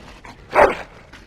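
A dog barks once in Dragon Age: Origins, a single mid-loud bark with a short whimpering tail, set against quiet game ambience.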